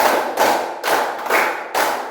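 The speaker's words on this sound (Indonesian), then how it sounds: "Tepuk 1, tepuk 2, tepuk 3, tepuk 4, tepuk 5." Classroom of pupils clapping together in a counted pattern, sharp group claps repeating in a steady rhythm of about five bursts, close and loud with no talking.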